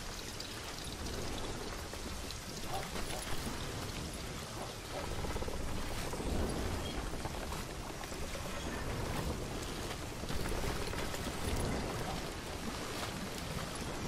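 Steady, dense rainfall in the Call of Juarez Gunslinger video game, an even hiss of drops pattering on surfaces that holds at a constant level throughout, with no voices over it.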